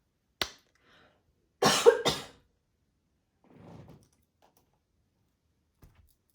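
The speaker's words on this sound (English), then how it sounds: "I'm gonna have to cough." A single person's short, sharp cough close to the microphone, preceded by a click and followed by faint rustling, in an otherwise quiet room.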